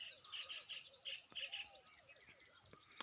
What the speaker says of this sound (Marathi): बारीक पक्ष्यांचा तुम्हाला चिवचिवाट ऐकू येत असेल